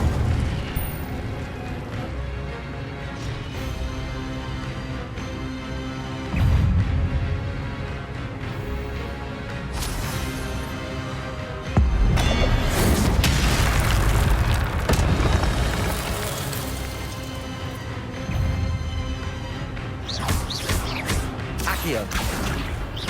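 Incendio fire spell bursts in Hogwarts Legacy combat: loud, booming magical blasts and crashes that recur throughout, mixed with voices and other spell effects.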